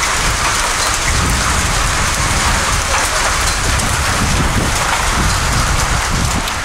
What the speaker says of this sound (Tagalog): Grabing ulan, no?